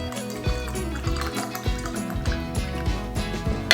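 Pineapple juice poured from a small six-ounce can for a jalapeño pineapple margarita, giving a short, close liquid splash and trickle of a few seconds against a busy background.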